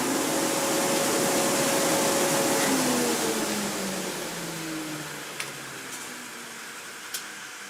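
A Quincy 325 air compressor's electric motor starting without a soft start, a loud steady broadband roar with a rising whine, then settling into a slightly quieter running hum, with a couple of faint clicks near the end.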